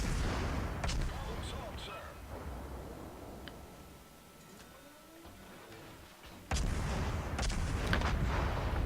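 Naval gunfire pounds a Royal Navy ship in the World of Warships video game, with heavy booming impacts at the start and near the end over a continuous rumbling battle din.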